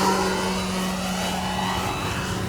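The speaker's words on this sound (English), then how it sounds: "Look at the performance of this airplane. Up, going into the throttle." Hangar 9 P-47 Thunderbolt RC airplane, an electric model on 4S power, flying air show maneuvers with a steady, continuous motor drone and whine as the throttle comes up, moderately loud and without talk.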